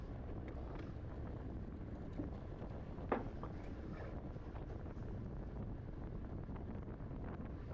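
Steady wind rushing across the microphone during a bicycle road race, a constant broadband roar with a brief gust bump midway and no clear talking over it.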